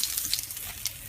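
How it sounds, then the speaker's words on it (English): Portobello mushroom fries frying in olive oil, a steady soft sizzle and crackle with brief hissing pops, fairly close and continuous. "we are frying with olive oil"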